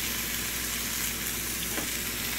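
Surf perch fries in a pan with soy sauce, giving a steady, close sizzle that holds for the whole stretch with no talking over it.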